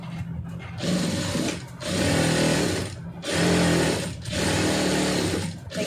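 A sewing machine stitches a blouse in four separate bursts of rapid whirring, each about a second long with brief pauses between, close and clear with no talking.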